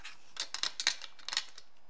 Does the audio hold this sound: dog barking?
no